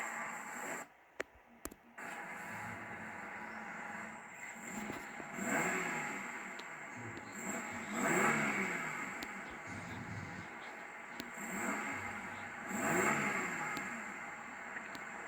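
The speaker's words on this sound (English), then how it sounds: "Quite a smooth engine." A 1998 Cadillac Catera (Opel Omega) engine starts after a brief pause, then settles into a smooth, steady idle heard from nearby, swelling in a few gentle revs.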